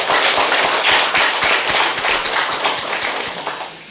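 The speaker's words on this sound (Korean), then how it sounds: "열심히 제왕나비를 불러준 우리 3대권 찬양단을 위해서 다시 한번 큰 박수를 부탁드리겠습니다." A church congregation at a three-generation family worship service applauds a choir loudly and up close, with many sharp, distinct hand claps forming a dense, energetic burst that eases slightly toward the end.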